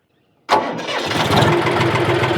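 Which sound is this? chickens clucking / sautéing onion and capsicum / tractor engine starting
tractor engine starting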